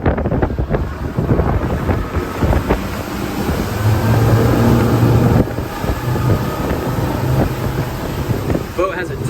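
A Pursuit DC266 boat with plenty of horsepower accelerates onto plane, its engine drone swelling beneath heavy wind buffeting the microphone.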